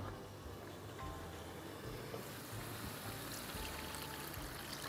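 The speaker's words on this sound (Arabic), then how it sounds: "دقيقة نثبتو في الصوص باش ما تشدش، نحطو لها الماء" Water poured into a tuna puttanesca pasta sauce in a pan, giving a steady, continuous rushing pour that runs for the whole stretch at a moderate, even level.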